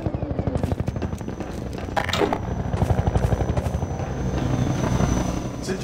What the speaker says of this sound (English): Since you brought that chopper in on your tail, you want to maybe help us take it down?